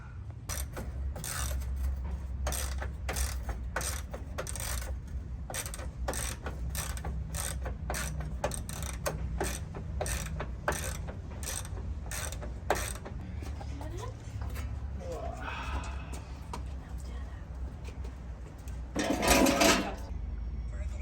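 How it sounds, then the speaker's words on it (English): A ratchet wrench takes bolts off the steel rear bumper of a Toyota Tacoma. Rapid, evenly spaced mechanical clicks run close and steady throughout, with a brief louder rattling burst near the end. "Now it's just removing all these bolts, and then we'll take this metal piece off"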